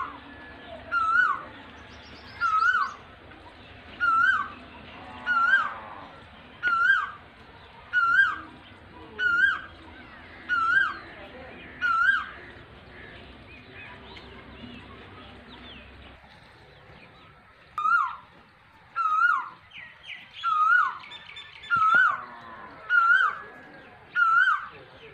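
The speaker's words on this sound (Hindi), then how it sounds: "ये कोयल है, ये कोयल बोल रही है।" An Asian koel, a cuckoo, calls repeatedly with loud, clear, rising whistled notes in an even rhythm. After a short pause the bird resumes its series, with quiet background sounds beneath.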